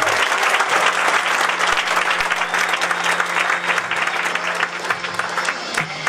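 A seated audience claps hard and without a break, a dense, loud wash of applause that holds steady the whole time and eases slightly near the end.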